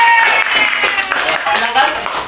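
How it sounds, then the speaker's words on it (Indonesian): A classroom of students claps for the quiz winners, brief close-up clapping lasting a couple of seconds with a few voices mixed in. "Ya, tepuk tangan."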